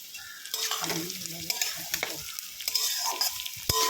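Tomato and slit green chilies fry with spices in a hot pan while being stirred, giving a steady close sizzle broken by scraping spatula strokes and a sharp clack near the end.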